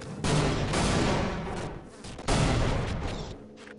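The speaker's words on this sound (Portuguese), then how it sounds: "Explodiu alguma coisa, mas não matou eles" A grenade blast in Half-Life: Opposing Force erupts as a loud, broad roar, then a second heavy explosion rumbles in a couple of seconds later, each burst tailing off slowly with no talk.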